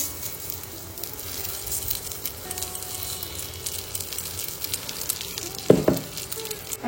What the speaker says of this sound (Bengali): আমি সাধারণত মুগ ডাল ভেজে করি না, কিন্তু যেহেতু মাছের মাথা দিয়ে করবো একটু একটুখানি ভেজে নিলাম